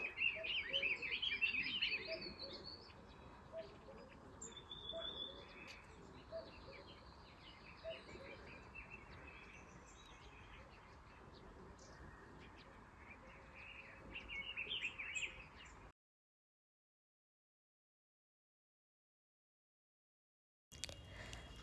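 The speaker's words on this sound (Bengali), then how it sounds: "এত পাখির কিচির মিচির শোনা যাচ্ছে" Birds chirp and twitter around a quiet hillside homestay in Rishop, Kalimpong, with repeated high calls over a soft insect hum, moderately distant, then a stretch of silence before the sound briefly returns.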